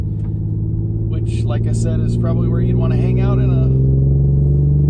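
Infiniti Q50 engine droning steadily in third gear during spirited driving, a strong continuous low hum with a sustained harmonic tone, under someone talking throughout.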